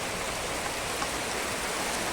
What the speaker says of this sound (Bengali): প্রচণ্ড ঝমঝম বৃষ্টি পড়ছে।